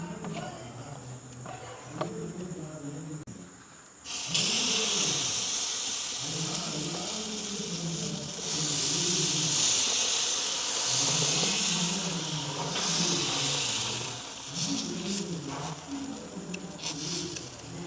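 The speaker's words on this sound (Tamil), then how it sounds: "கரைச்சி வச்சுருக்கிற தோசை மாவு நாங்கள் விடுவோம்" Dosa batter hits a hot pan and breaks into a loud steady sizzle in a village kitchen, bright hissing rising at once and holding, while a person talks underneath throughout.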